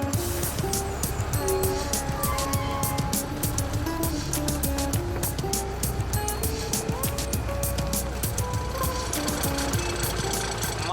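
A heavy truck engine rumbles steadily throughout while driving downhill, with clattering mechanical knocks and faint creaks over a continuous low drone.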